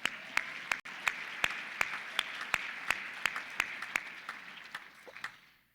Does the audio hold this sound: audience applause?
yes